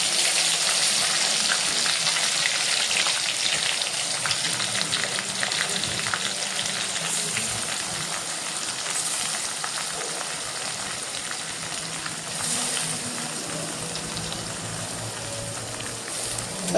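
Onions fry in hot oil with ginger-chili-garlic paste for pav bhaji, a loud, continuous crackling sizzle with occasional stirring that fades slightly over time.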